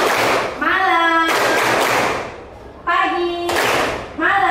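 Students in a classroom clap in short bursts on a teacher's cue, with a voice speaking between the bursts, close and fairly loud.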